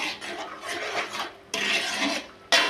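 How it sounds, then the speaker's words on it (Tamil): A spoon scrapes and rubs through a thick gram flour mixture in a pan on the stove, giving close, rasping strokes in uneven bursts, with two sharper, louder scrapes at the end. "1 நிமிஷம் வரைக்கும் நம்ம கிண்டிகிட்டு இருக்கணும்"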